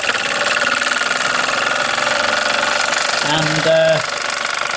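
Toy steam engine running with a fast, steady mechanical chugging and rattling close by, joined near the end by a brief whistle-like tone, with a voice speaking briefly.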